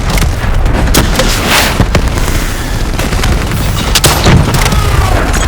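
Gunfire rages through a boss fight in the video game Black Ops 3, with Hall in the Manticore, as a loud, dense barrage of shots and booming blasts runs continuously without a break.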